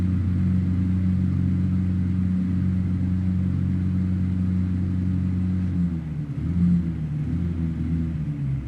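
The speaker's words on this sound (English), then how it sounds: "Car starting up." A car engine from the Payday 2 game turns over and settles into a deep, steady rumbling idle, which wavers briefly near the end before evening out again.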